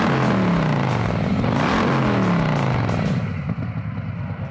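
A 2020 Harley-Davidson Road Glide Special with a Screaming Eagle 131ci engine revving hard, a loud, deep rumbling roar that rises and falls in pitch as the throttle is rolled on and off, close and continuous.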